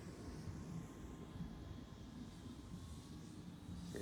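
A twin-motor E-flite Slow Ultra Stick radio-controlled plane weighing about four pounds makes a low pass, heard as a faint, steady electric drone over outdoor background noise.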